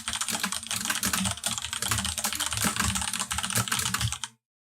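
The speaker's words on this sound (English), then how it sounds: "It's a mechanical keyboard, but I also put filters on my mic, so it sounds a lot louder than it is." Fast, steady typing on a mechanical computer keyboard, dense clacking keystrokes close to the mic and loud throughout, cutting off abruptly near the end.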